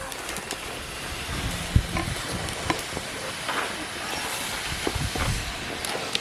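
A spoon stirs cashews through pineapple kesari in a pan, giving soft scraping and tapping clicks over a steady low hiss, with faint talk in the background.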